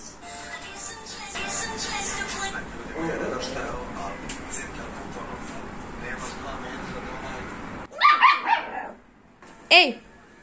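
A dog barks in an apartment, several sharp loud barks bursting out near the end after a stretch of busy indoor background noise, with a person's voice also heard.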